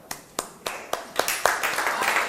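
Hand clapping in a classroom, about ten sharp claps in a loose rhythm that quickens toward the end, close and fairly loud with a little background voice.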